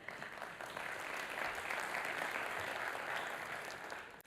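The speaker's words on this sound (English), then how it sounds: "I see you clapped even before I was finished my sentence" A conference audience at an Africa-focused summit breaks into sustained applause, steady and dense throughout, filling the room with continuous clapping and no talk over it.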